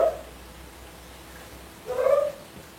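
A cat meows at home during a gentle stretching session: a brief cry cut off at the start, then a clearer, louder meow near the end over quiet room tone.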